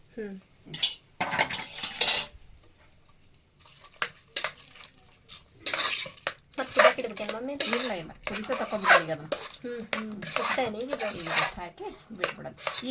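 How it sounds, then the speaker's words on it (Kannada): Metal spoon clatters and scrapes against a cooking pot while curry is stirred and mixed with coriander leaves, a string of close, irregular clinks and scrapes, with a person talking through the second half. "ಕೊತ್ತಂಬರಿ ಸೊಪ್ಪು ಹಾಕೊಂಡು ಮಿಕ್ಸ್ ಮಾಡೋಣ"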